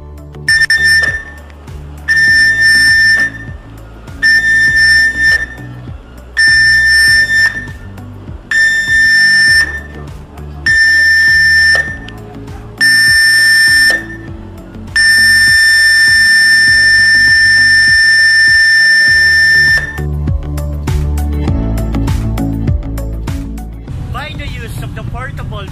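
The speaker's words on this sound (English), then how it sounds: "The master pressed the general alarm on the ship's whistle. 7 short blasts and 1 long blast followed by the public address." A ship's general alarm sounds on the whistle during an onboard emergency drill: seven loud, evenly spaced short blasts, then one long sustained blast, followed by a rumbling background with distant announcements.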